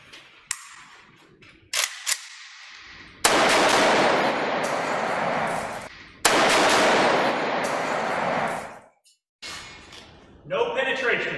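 An AK-47 rifle fires two long, loud bursts of automatic gunfire, each lasting about three seconds, preceded by a few sharp single cracks, with voices heard around the shots.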